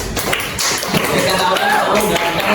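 Students in a high school Indonesian-language class at SMAN 9 Yogyakarta clap their hands in a brief, uneven burst of close claps, with voices talking over the clapping.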